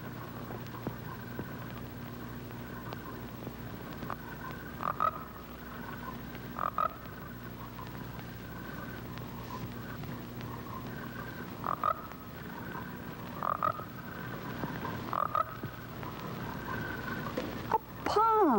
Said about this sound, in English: A pond. And that sounds like a frog.